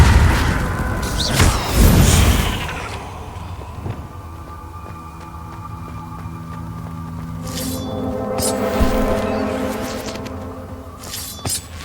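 A Bombarda spell explosion in the Hogwarts Legacy video game bursts loudly at the start, followed by a quieter stretch of humming ambience and a second rising shimmering blast near the end.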